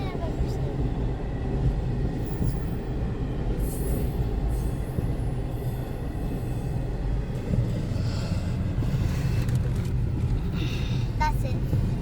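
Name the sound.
very long freight train passing by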